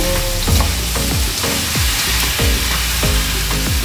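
French beans stir-fry with minced pork in a hot pan, a loud, steady sizzle broken by rhythmic scraping strokes of a utensil stirring about every half second.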